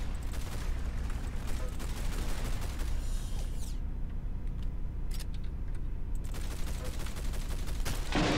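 Continuous rapid gunfire in the Roblox shooter Arsenal, a steady, dense rattle of shots that runs throughout at moderate loudness with little pause.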